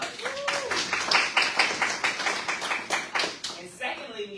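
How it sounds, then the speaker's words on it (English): A small group claps in a quick, even rhythm, close and moderately loud, with a brief voice at the start and a pause before it trails off. "Let's give Mr. Lingham a round of applause."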